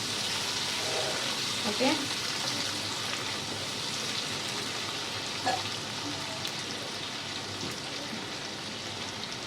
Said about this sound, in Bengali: আলুটা ভেজে নিই, ভালো করে সিদ্ধ হয়ে যাক